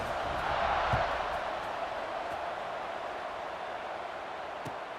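A stadium crowd at a tied American football game waits for the kickoff in the third quarter, a broad, steady roar of many voices with a few scattered shouts, loud and continuous.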